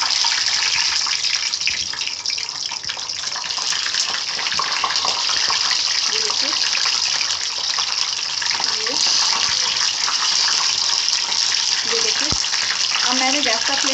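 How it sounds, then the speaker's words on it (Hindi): Stuffed capsicums (bell peppers) cooking in a pan over a medium gas flame give a continuous loud sizzling hiss, with small pops and crackles throughout. "मैंने गैस का फ्लेम मीडियम कर रखा है और मीडियम आंच पे ही मैं इसको पकाऊंगी"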